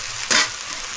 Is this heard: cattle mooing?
no